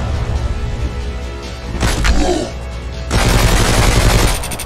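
Gunfire in the survival video game Mist Survival as the player empties magazines, with loud bursts of shots and booming blasts in quick succession, separated by short gaps.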